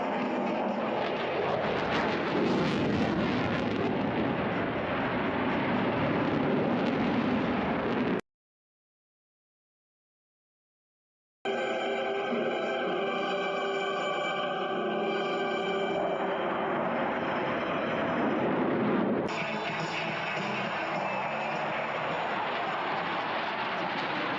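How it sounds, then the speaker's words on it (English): An F-22 Raptor fighter jet flying at the Avalon Airshow, giving off a loud, sustained roaring rush of jet noise that cuts out abruptly and then returns with a shifting, whining tone. "brought with them perhaps the best fighter ever to be produced, the F-22 Raptor"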